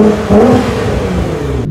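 A Nissan GT-R R35 on its stock exhaust gives a short, loud rev close by, a deep rumbling burst with a slight rise before it cuts off.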